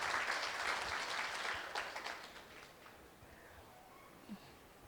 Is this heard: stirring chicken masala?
no